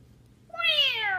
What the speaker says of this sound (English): I don't think the cat's enjoying that.